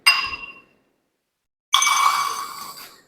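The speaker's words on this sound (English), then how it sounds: "you have to break this test tube" A hot glass test tube is plunged into a beaker of water and breaks, giving two bright glassy clinks with ringing tails separated by a second of silence, close and clear with no talk.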